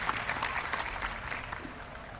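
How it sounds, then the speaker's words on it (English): Audience applause at a Clear Springs High School introductions event, a steady wash of many hands clapping at moderate volume throughout, slightly distant, with no speech over it. "So please give them all a round of applause."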